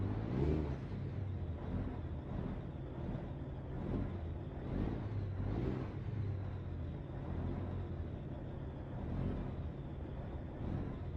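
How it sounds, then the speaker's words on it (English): A Mack Superliner truck engine in American Truck Simulator drones at a steady low rumble with gentle rhythmic swells while cruising down a Texas highway, continuous and unbroken, with no talk. "I love how this engine sounds."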